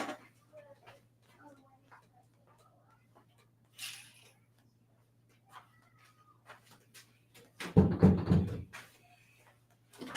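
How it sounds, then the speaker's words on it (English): An indoor door swings shut with a loud close and thud near the middle of the quiet stretch, standing out clearly above faint background hum and small scattered clicks. "I gotta close another door here."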